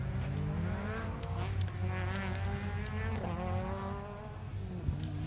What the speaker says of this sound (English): We're going to see a few cars just fly past.